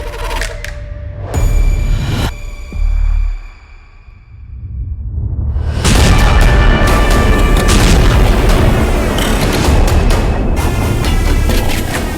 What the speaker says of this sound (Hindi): अचानक जोरदार धमाके होते हैं।